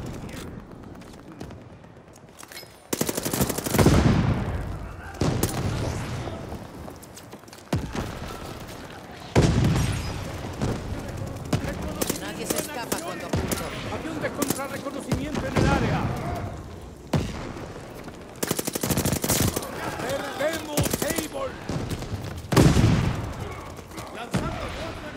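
Dense video game gunfire and heavy mortar booms pound in bursts throughout, with shouted Spanish voices mixed into the chaotic battle noise.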